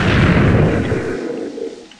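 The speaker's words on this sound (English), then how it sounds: "What a nice new explosion effect." Explosion in Minecraft, a loud, booming blast right at the start that decays into a rumbling tail over about two seconds.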